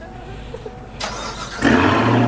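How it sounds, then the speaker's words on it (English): A 2019 Chevrolet Corvette ZR1 with a 755 hp V8 cranks over and catches about halfway through, then settles into a loud, rumbling idle close by. "You want to give it some rev, Zach?"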